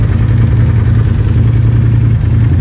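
A 2022 Polaris RZR Turbo R fitted with a Trinity Stage 5 full exhaust runs at a loud, steady, deep idle, close by with a constant low rumble throughout.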